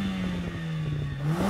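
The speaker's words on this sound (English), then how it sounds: "Let's compare the sound from these two 2-litre engines" A Mercedes-AMG 2-litre car engine revving up nearby, a steady droning whine that rises toward the end, with no voices over it.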